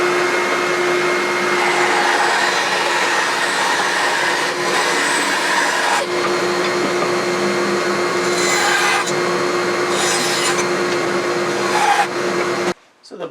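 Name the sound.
cutting a strip from hard exotic wood scrap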